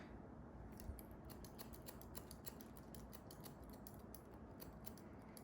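Scissors point-cut hair during an A-line bob haircut for thin hair, making a fast run of crisp, close snips that repeat through the clip over a soft steady background hiss, with no talking.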